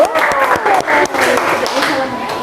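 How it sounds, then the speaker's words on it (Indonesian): A classroom group of students claps for a presenting group, a brief uneven burst of applause mixed with chatter and voices. "kasih tepuk tangan untuk kelompok 1"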